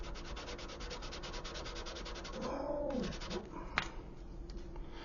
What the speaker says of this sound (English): I'm going to go ahead and finish up here with this heavier grit, and then we'll come back to the medium grit